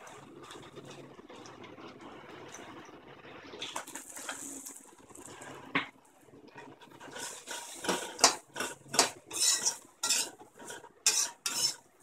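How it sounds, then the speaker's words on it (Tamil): Okra with turmeric sautéing in a pan for a ladies finger curry, with a spoon scraping and stirring; soft sizzling at first, then a rapid run of loud, close clanks and scrapes of metal on the pan. "கொஞ்ச நேரம் நல்லா வதக்கிக்கணும்."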